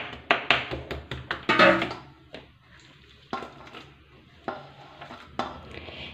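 Knife chopping bottle gourd into fine small pieces on a board, a quick run of sharp close taps followed by a few sparser isolated knocks.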